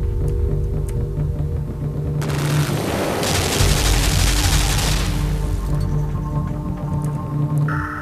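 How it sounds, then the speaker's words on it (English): Rapid machine gun fire in the side-scrolling puzzle game Limbo, a dense burst of shots swelling loudly for a few seconds in the middle over a low steady ambient rumble, with softer scattered pops before and after. "Pinpoint accuracy machine gun."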